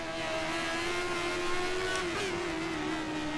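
A 1988 Formula 1 car engine in a racing video game screams at sustained full revs, a steady buzzing whine with a slight pitch dip near the end, no talk.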